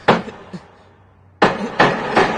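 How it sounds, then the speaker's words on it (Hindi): Cartoon hammer blows on a shelf: a sharp strike, a lighter tap, then a quiet pause before three loud, evenly spaced whacks close by, with no talking. "याद रखो, हथौड़ा चलाते वक्त अपनी कलाई का इस्तेमाल मत करो, पूरे हाथ का इस्तेमाल करो।"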